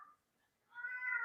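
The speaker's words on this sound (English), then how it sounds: "That's the cat that I'm cat sitting." A house cat meows nearby, a faint short call followed by a clearer, longer meow in a quiet room.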